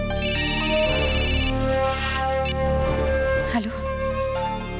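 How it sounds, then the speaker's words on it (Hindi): A phone ringtone plays loudly and continuously, a repeating electronic melody with a brief shift partway through. "प्लीज ज्योति दीदी, प्लीज जल्दी फोन उठाइए।"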